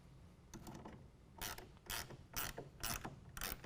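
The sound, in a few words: clamp being tightened onto tonneau cover rail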